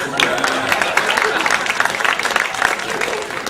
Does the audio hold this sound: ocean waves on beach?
no